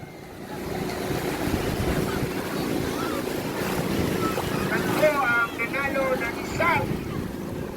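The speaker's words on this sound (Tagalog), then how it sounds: "Makina! Ayun, makina!" Racing boat engines drone during a bankarera boat race, a steady close rumble with wind buffeting the microphone, overlaid by excited shouting voices toward the end.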